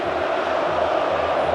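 Flamengo supporters roar and sing loudly in the stands during a derby against Fluminense, a dense steady wall of crowd voices with no break.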